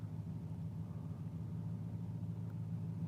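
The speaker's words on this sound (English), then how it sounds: "I think that's that truck engine that started, that loud truck" A loud white truck's engine rumbles low and steady, fairly faint and distant, a continuous idle drone with no voices.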